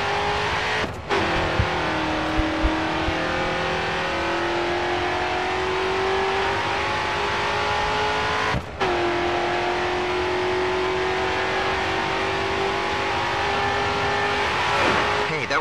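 Race car at full throttle in the Grid 2 racing game, a loud continuous engine scream rising steadily through the gears, broken by two sharp upshifts, with faint tire squeal.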